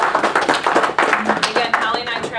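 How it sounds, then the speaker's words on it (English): Short burst of audience clapping at an analytics conference session, uneven and fairly close, with individual claps standing out and voices talking over it. "How about a round of applause?"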